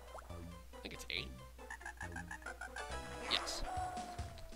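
Repeated frog croaks from a WarioWare Inc. video game counting microgame, short rhythmic calls popping up one after another over a busy backdrop of game music and effects.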